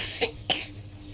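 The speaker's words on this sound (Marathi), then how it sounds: "खोकला येतोय." Two short, sharp coughs in quick succession, close by, followed by quiet.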